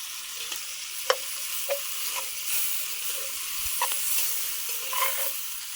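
Two whole bulbs of garlic frying in a very hot pot for beef bourguignon, a steady close sizzle with occasional sharp crackles and spatters, no voices.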